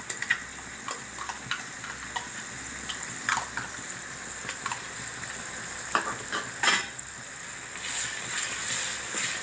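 Ginger garlic paste fries in hot oil for vegetable biryani, sizzling in a steady hiss with intermittent scraping stirs and spoon clatters, close and continuous without talk.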